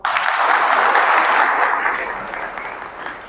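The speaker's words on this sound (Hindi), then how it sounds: "बजाओ ताली" A seminar audience in Mahoba bursts into loud, dense clapping on cue, a sustained wash of many hands that holds strong and then gradually thins toward the end.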